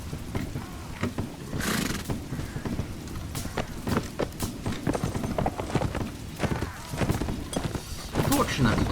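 Prussian cavalry horses in a Napoleonic battle video game, hooves clopping in a busy, steady patter with occasional whinnies, mixed into a dense battle din with voices heard throughout.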